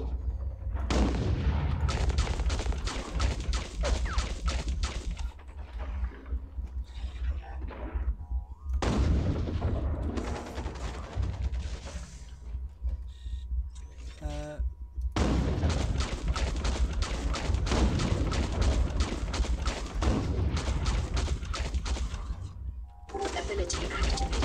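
Mech weapons firing in the video game Hawken, loud sustained bursts of rapid shots in three long runs separated by brief gaps, with someone talking over the gameplay.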